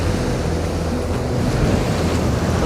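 Surf washes in on a fishing shore, a loud, steady rush of breaking water with wind buffeting the microphone and no voices.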